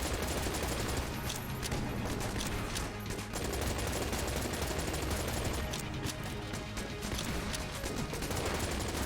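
Rapid gunfire from the Combine Rifle in Enter the Gungeon, a dense continuous stream of quick shots with game effects layered over it.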